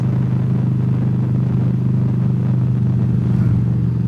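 Steady low engine rumble from a 2014 Honda VFR Deluxe Interceptor motorcycle cruising along a road, a continuous droning tone with wind noise, heard from the rider's position and unbroken throughout.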